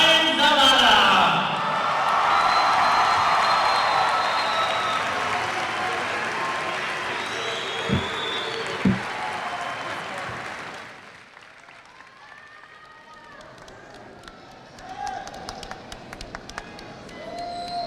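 High school graduation crowd applauding and cheering for the graduates, a loud wash of clapping and whoops that builds, fades around the middle, then rises again in a smaller burst, with a few thumps.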